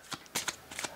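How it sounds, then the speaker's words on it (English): Small pocket oracle deck cards are shuffled by hand in three or four quick, crisp riffling bursts, close and alone with no talking. "Look at these tiny shuffles."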